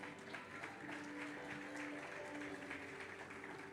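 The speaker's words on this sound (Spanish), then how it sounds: "Dale un aplauso a él, aleluya" A church congregation applauds during a sermon, a steady dense wash of clapping over a sustained tonal background, moderately quiet and even throughout.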